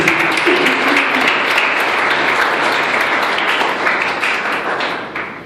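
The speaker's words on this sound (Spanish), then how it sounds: "Démosle un aplauso a Jesús." Church congregation applauding at a Venezuelan youth Apostolic service, a dense, steady roar of many hands clapping together that fades slightly at the end, loud and close.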